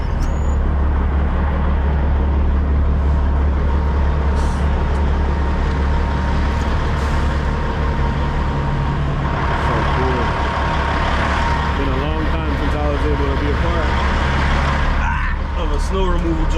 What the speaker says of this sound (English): Bunch of trucks here.